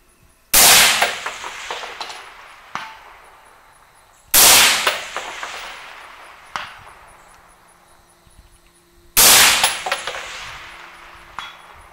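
Three loud, evenly spaced 6.5 Creedmoor rifle shots crack out at a long-range steel target course, each blast trailing off in a ringing echo, with no talk.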